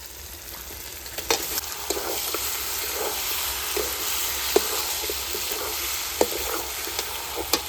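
A kilo of meat sizzles in a hot pan with a spoonful of Kashmiri chili. The frying hiss is steady and close, dotted with sharp spoon clicks and scrapes as it is stirred, and no one talks.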